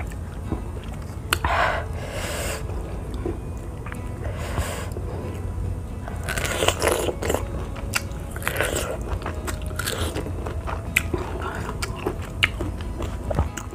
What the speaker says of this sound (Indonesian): Tapi aku suka dengan teksturnya guys, karena kriuk